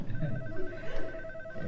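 Telephone ringing indoors, a steady electronic ring that runs continuously and fairly loud, with low room noise underneath.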